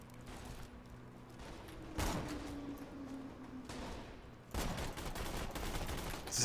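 Gunfire in the Borderlands 2 video game, bursts of rapid shots and clattering mechanical noises in a busy, loud mix with a few sharp louder blasts and no talk.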